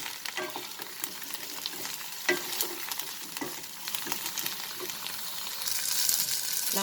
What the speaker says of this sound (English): Over a high flame, fry the brinjal till it becomes nice and golden.